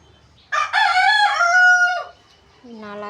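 A rooster crows loudly close by, a long drawn-out call, followed by the start of another crow after a short pause.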